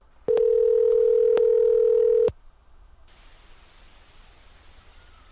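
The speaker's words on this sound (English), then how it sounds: "let's get Pat on the phone" A steady telephone dial tone sounds loudly for about two seconds while a call is being placed, then cuts off, leaving a faint hiss of line noise.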